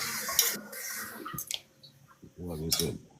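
Tap water runs in a home kitchen sink for washing dishes, coming in loud broadband bursts with short pauses, while voices talk close by near the end.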